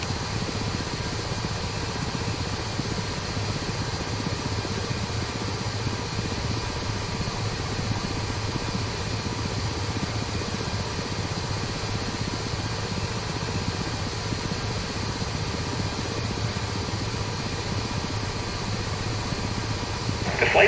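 A Ka-50 Black Shark helicopter in flight inside the DCS combat flight simulator produces a constant, steady rotor and turbine drone throughout, loud and unbroken with no speech over it.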